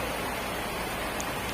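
Steady rain falls outdoors at night, a continuous broadband hiss of drops on surfaces that stays even and unbroken throughout, with no voices or other sounds over it.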